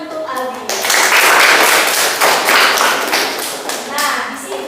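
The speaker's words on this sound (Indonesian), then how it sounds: "tepuk tangan untuk Aldi." Pupils in a classroom clap for a classmate, a burst of close, uneven clapping lasting a few seconds, with children's voices heard just before and as it fades.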